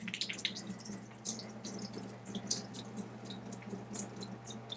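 Canned food rinsed in a strainer under a running kitchen tap, a quiet continuous splash of water with small drips and squishy sloshes, fairly faint, no talking.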